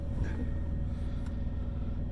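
A truck APU engine runs with the air conditioner switched off, a steady low rumbling drone with even, continuous idle pulsing, close and moderately loud with no talk.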